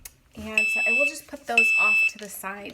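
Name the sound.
beeping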